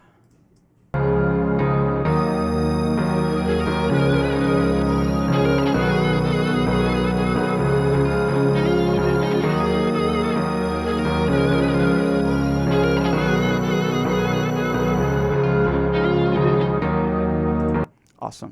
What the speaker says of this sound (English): the grand piano and the little strings and this other string and this other pad and this other